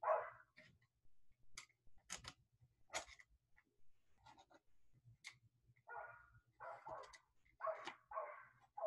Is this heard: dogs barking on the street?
yes